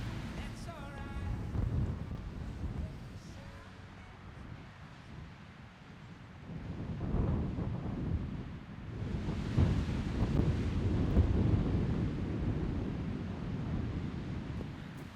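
Strong wind on the Newfoundland coast buffets the microphone in gusting rushes, with a surf-like roar rising and falling under it and no talk.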